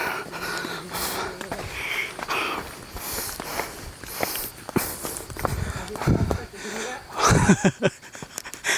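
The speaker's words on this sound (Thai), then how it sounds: "ตอนนี้ก็เริ่มหอบอีกละ" Heavy, labored panting and breathing from a hiker climbing a rocky mountain trail to a cave temple, close to the mic, with footsteps on stone and occasional talk mixed in.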